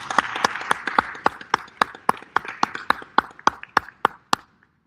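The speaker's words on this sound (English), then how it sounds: "Please, without further ado, give them a round of applause." Audience applause for guest speakers at a sports business and NIL education summit at Southern University, a thin scattering of sharp hand claps that starts dense and tapers to a few distinct slaps before fading out.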